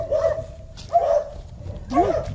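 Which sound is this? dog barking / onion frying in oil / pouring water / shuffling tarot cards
dog barking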